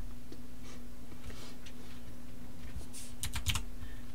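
Typing on a computer keyboard while setting up a clothing rig in Blender and Unreal 5, heard as light, scattered clicks that grow denser near the end, up close over a steady low hum.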